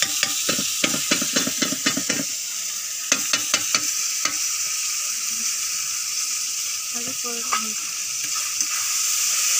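Onion and tomato paste stirred in a pan over a steady sizzle, with a burst of quick spoon scrapes at the start, a few more strokes around three to four seconds and a last cluster later, frying hiss carrying on throughout.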